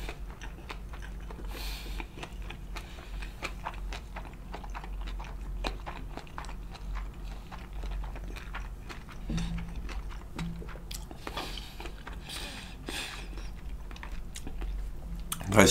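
Someone chews vegan sushi with shrimpless shrimp and soy sauce close to the microphone: soft, moist crunching and smacking bites in a steady stream, with no talking.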